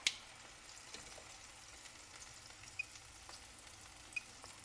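Meat for tacos searing in a pan over heat, a quiet, steady low sizzle with faint crackles and a couple of light ticks, heard at a distance with no one speaking.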